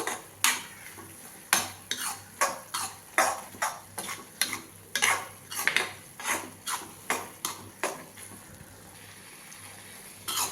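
Prawn masala being stirred in a pan, a utensil scraping and clattering against the metal in a steady run of distinct strokes, roughly one every half second, close and fairly loud with a faint sizzle beneath.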